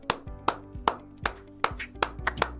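Steady rhythmic clapping at a comedy show, sharp claps landing about every 0.4 seconds over a sustained tonal background, fairly close and even.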